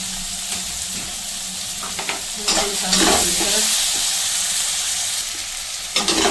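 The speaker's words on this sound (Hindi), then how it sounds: "मसाले चंगी तरह मिक्स कर लेंगे" Spices (garam masala, deggi mirch, turmeric) stirred and roasted in a hot pan for an aloo baingan sabzi, with a continuous close sizzle and repeated scraping strokes of the spoon that swell louder midway.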